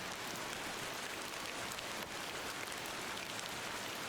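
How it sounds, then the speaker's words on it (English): Steady rain falls in a video game, a dense, even hiss of drops on surfaces with no let-up, faint and with no talking. "But a bit of rain won't kill us, will it?"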